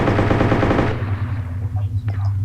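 Gunfire in the video game DayZ: a loud, rapid burst of automatic shots for about a second, then the reverberating tail and a few faint distant cracks.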